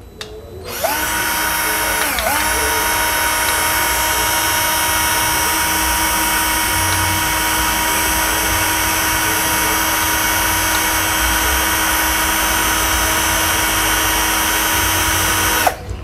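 A DCK KDJZ1202 12V cordless drill spinning at speed 1, a loud steady whine that starts sharply, dips briefly once, then holds constant for about fifteen seconds before cutting off.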